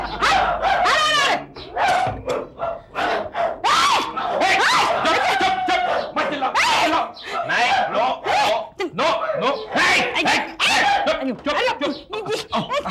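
Several dogs barking in a noisy, overlapping chorus at a doorstep, loud and continuous throughout, mixed with voices and busy background sound.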